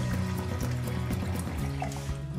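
Cold water pours into a small bucket in a continuous splashing, gurgling stream, close and fairly loud, with no talking over it.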